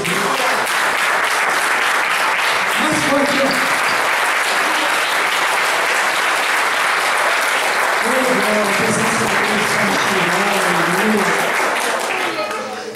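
A church congregation applauds in a loud, sustained wave of clapping that fills the room, with voices calling and cheering over it in bursts.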